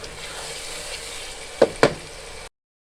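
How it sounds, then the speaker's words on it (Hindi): Masala frying in a handi for creamy chicken gives a steady broadband sizzle, with two sharp knocks near the end from stirring, and no talking. "मसाला हमारा भून चुका है,"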